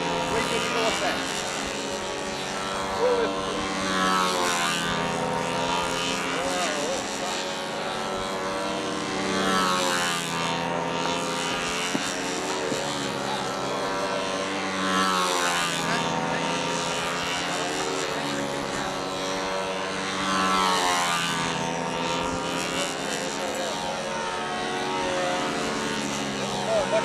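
A radio-controlled model airplane engine and propeller at a national model aircraft championship buzz with a high, strong whine that rises and falls in repeated passes, while people talk nearby throughout.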